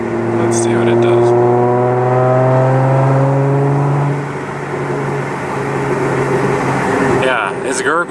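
A stage 2 Audi S4 with a burble tune drones steadily at cruising speed, its exhaust note holding a low hum before briefly easing off and picking back up near the end.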